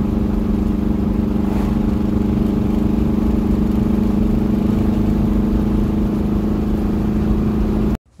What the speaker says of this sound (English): you can hear the engine still wasn't running right